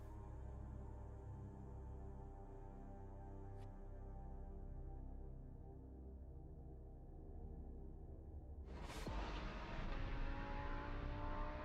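A Viper race car engine in the racing game Project Motor Racing 2.0 holds a steady, droning tone, then shifts abruptly to a brighter, rougher note partway through, with no talk over it.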